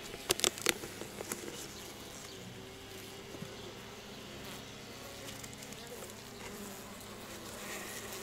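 Honeybees hum faintly around nucleus hives at an apiary, a thin steady buzz running throughout, with a few sharp clicks and handling noises near the start and no talk.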